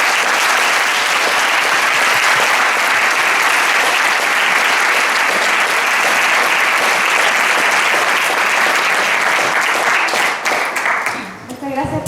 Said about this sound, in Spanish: un gran aplauso al profesor Adventista